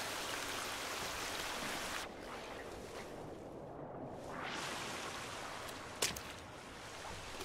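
Swimming through water in the video game The Forest gives a steady, hissing wash of splashing water, fairly close and constant, briefly dipping quieter before resuming, with no talk over it.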